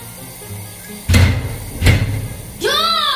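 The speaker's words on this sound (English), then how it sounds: "Stop slamming that door." An indoor door slammed shut twice in quick succession, each a loud, close heavy thud about a second apart, followed by a person starting to speak.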